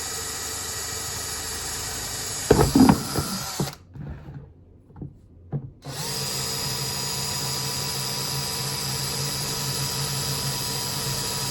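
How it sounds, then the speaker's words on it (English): A power drill whirs steadily up close while drilling drainage holes in a plastic plant pot, then stops while the plastic knocks and creaks. The drill starts again and runs on evenly. "Drilling some holes in here for some drainage."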